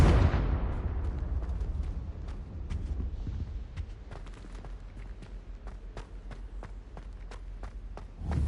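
A Confringo fire spell from Hogwarts Legacy opens with a loud, bassy blast. It fades into a crackling rumble, followed by a long run of sharp, regular clicks or steps, and ends with another thump.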